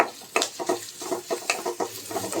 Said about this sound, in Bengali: এখন আমি দিয়ে দেব পেঁয়াজ পেঁয়াজগুলো একটু ভেজে নেব